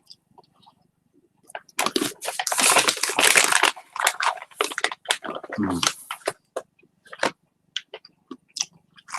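Cashews crunch loudly between the teeth up close, with a dense burst of crushing followed by scattered, softer chewing clicks that trail off.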